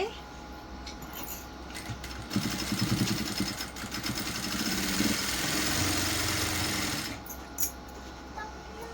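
Domestic sewing machine running a steady mechanical stitching whir while sewing along a plain blouse edge, louder in the middle stretch, with a low hum underneath.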